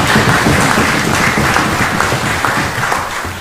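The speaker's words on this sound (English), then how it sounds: "Please clap." Audience applause fills a sitting of the House of Representatives, a steady dense wash of many hands clapping at an even, loud level throughout, with no voices standing out.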